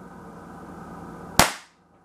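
A tiny airsoft gun fires a single BB: a low steady hum, then one sharp, close crack that dies away into near silence.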